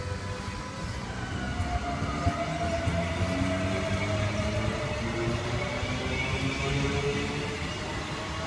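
A Queensland Rail SMU electric multiple unit pulls away from the station platform on an Ipswich service, its traction motors giving a steady rising whine over a continuous rumble of rolling wheels, heard close by and without speech.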